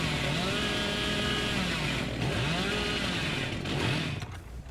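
The chainsaw in the video game Dead by Daylight drones steadily for several seconds, a continuous revving buzz with rising and falling engine pitch, fairly muted and with no talking over it.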